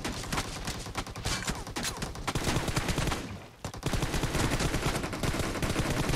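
Rapid automatic gunfire in a PUBG Mobile arena team deathmatch, dense bursts of shots from many directions with a brief pause midway, then the barrage resumes.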